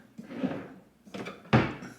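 A soft-closing drawer in a hotel room slides along its runners and settles shut, with a couple of soft rubbing movements followed by a gentle closing thud, heard up close and quiet.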